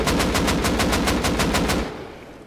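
Rapid automatic gunfire in the online survival game Rust, a loud, fast burst of about a dozen evenly spaced shots that stops abruptly and fades into a brief tail.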